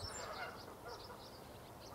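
Geese honk on a pond some distance off, faint repeated calls rising over a low background rumble, with no one talking.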